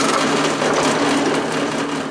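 A steady, high-pitched whirring of a power drill boring into material runs continuously at close range, with no speech.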